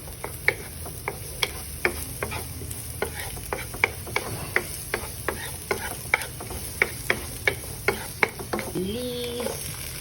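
Onion sautéing in a pan with garlic for pork sisig, a steady sizzle under regular, evenly spaced scrapes of a spatula stirring, with a brief voice-like tone near the end.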